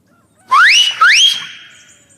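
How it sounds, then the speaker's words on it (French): Two loud, sharp rising two-finger whistles in quick succession, the second trailing off with a faint echo. "mit ses 2 index à la gueule et poussa l'un de ses fameux sifflements"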